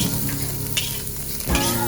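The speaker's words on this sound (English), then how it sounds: "add your oil, your onions, and your garlic. And go ahead and stir that for a minute or so" A steady sizzle of onions and garlic frying in hot oil, with a few scraping stirs of a utensil against the pan, close and fairly loud.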